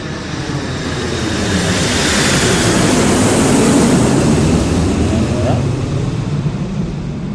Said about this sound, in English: That is an airplane that is landing at the Funny Farm Airport.